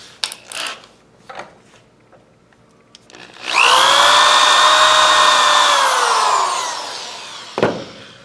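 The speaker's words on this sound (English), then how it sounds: "Now I'm going to drill out that center using my twist drill bit." A power drill with a 5/16 inch twist bit bores into a clamped wooden board. A few light clunks come first, then a loud, steady, high motor whine runs for about three seconds and winds down, followed by one last knock.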